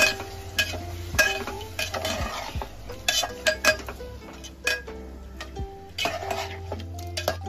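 A spoon works yogurt into fried spices and potatoes for aloo gosht korma, giving close, irregular metallic scrapes and clinks against the pan, with a faint sizzle underneath.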